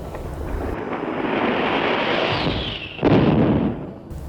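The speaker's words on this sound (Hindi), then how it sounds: "धमाकों और विस्फोटों की होड़ मची है" Explosions and blasts of war as a dense, roaring rumble that builds steadily, then a heavier burst hits near the end before fading.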